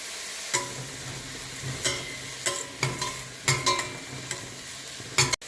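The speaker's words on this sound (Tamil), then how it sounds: "இப்போ நம்ம வெங்காயம் ஓரளவு வதங்கியாச்சு." Onions sauté in a pan for an ash gourd curry, a low steady sizzle broken by sharp, irregular scrapes and taps of a spoon against the pan, close and clear with no voices.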